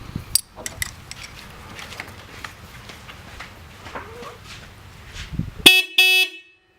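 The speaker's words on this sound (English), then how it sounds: "that's how you fix a Miata horn that's not working" A Mazda Miata horn, tested after a repair, blares in a loud sustained honk near the end, following a stretch of faint clicks and handling noises in a quiet garage.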